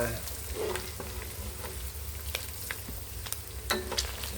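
Salted pork chunks frying in hot oil for Thai moo tod kem, a steady close crackle with sharp spattering pops scattered throughout and a low background hum.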